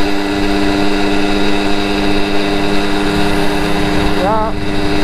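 A Simson 50cc moped engine drones steadily as it climbs a hill in low gear, a loud continuous buzz with strong harmonic whine, and a short high chirp rises near the end.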